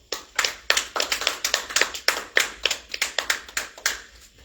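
A small audience claps in a classroom-style lecture, a short burst of distinct, sparse handclaps at close range that thins out and fades within a few seconds, with no voices.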